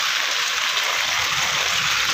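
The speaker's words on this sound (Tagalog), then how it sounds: "Yung dumadaan yung tubig natin." Floodwater rushes steadily over a broken, damaged road after a typhoon, a continuous loud, broadband wash with no break across the clip.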